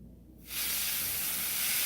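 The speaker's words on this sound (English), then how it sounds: "So just like spray it just lightly." Spray paint hisses in a steady, loud burst onto a model tank, starting abruptly about half a second in and holding continuously to the end.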